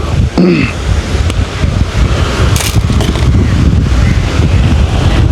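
Sea surf washes at the Mayiliddy village fishing harbour and fish market, where trawler boats are moored; loud rushing waves mixed with heavy wind buffeting the microphone, no talk.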